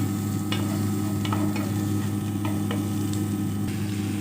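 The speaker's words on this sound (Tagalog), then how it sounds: "Nilagay ko na yung tangkay ng kangkong." Kangkong stems stirred and sautéed in a hot pan, with a steady sizzle and a few sharp scraping clicks from the utensil throughout.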